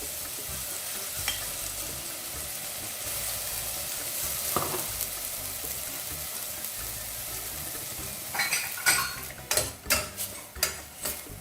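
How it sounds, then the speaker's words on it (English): Freshly ground Tom Yum spice paste fries in oil in a pan, giving a steady close sizzle, then a burst of metal utensil scrapes and clanks against the pan toward the end. "Just going to add the paste there and fry it very well."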